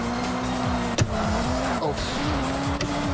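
A car in a video game merges with another car, its steady engine drone running throughout with repeated tire squeals and skids, and a voice briefly exclaims over it.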